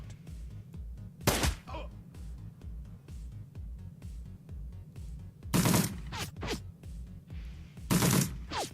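Sharp, loud bursts of gunfire in a video game, three separate shots spaced seconds apart over a low rhythmic background hum.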